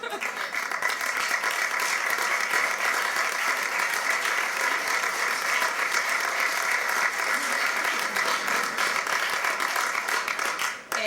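A crowd at a rally marking the anniversary of the 3 October 2017 general strike applauds steadily, dense sustained clapping at a constant level that cuts off abruptly at the end.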